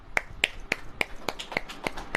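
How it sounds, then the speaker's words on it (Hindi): Hand claps at a religious sermon gathering ring out in a steady, quick beat, about eight sharp, crisp claps, close and clear with no talking over them. "ये देखो ताली बजाओ।"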